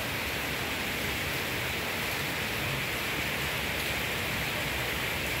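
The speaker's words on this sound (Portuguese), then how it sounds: "Começou a chover aqui em Salvador, bastante." Heavy rain pours steadily in Salvador, Bahia, Brazil, a dense, constant hiss with no breaks and no talk.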